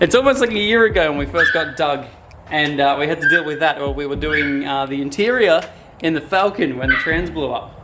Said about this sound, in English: I'm going to have to excuse the dog yelping because I cannot help that at all